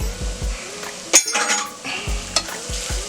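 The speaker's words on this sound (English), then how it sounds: "we're just going to stir that around just so it gets fragrant" A spoon stirs minced garlic into sweating onions in a pan, giving soft scraping strokes, a few sharp clinks against the pan and a faint sizzle underneath, close and fairly quiet.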